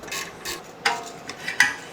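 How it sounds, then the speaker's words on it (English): Ratchet clicking as caliper bracket bolts are loosened on a BMW E46 brake assembly, with a few short bursts of quiet metallic ratcheting spaced over about two seconds. "Next thing we're going to do is pull the 2 caliper bracket bolts to get the caliper off."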